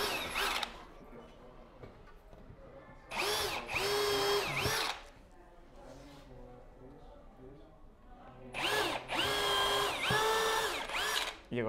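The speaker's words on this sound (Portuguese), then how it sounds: "Vamos então fazer o pré-furo." Power drill boring a pilot hole into reclaimed wood for a garden planter, two loud whining bursts of a few seconds each separated by a quieter stretch with low background voices.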